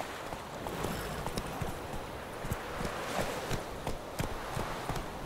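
Roach the horse galloping in the video game The Witcher 3, rapid hoof beats pounding steadily over a constant rushing background of wind and motion, no talking over the hooves.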